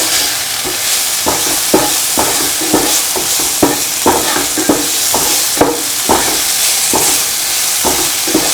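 A utensil stirring salt into a vermicelli and egg mixture, producing repeated scraping and clicking strokes against the bowl in a steady rhythm, close and fairly loud, with a faint sizzle-like hiss underneath.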